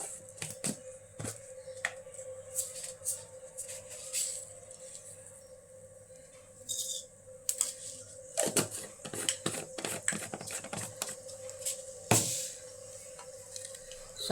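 Mustard seeds crackle and pop in hot oil in a heated pan, with scattered sharp spluttering bursts that come in denser clusters toward the end, over a steady low kitchen hum.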